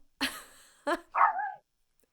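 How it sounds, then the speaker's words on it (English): A dog gives three sharp barks in quick succession, close and clear, each burst short, followed by silence. "It's only a dog."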